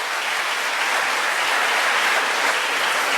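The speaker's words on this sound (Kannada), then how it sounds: "ಚಪ್ಪಾಳೆ ಬರಲಿ ಹುಡುಗನಿಗೋಸ್ಕರ" An audience applauding a boy who sang a poem at a gathering, steady dense clapping that fills the whole moment, loud and close, with no voices over it.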